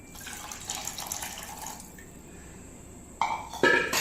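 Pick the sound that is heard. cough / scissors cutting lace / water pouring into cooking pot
water pouring into cooking pot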